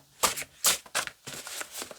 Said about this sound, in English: I'm just going to keep shuffling until they find the card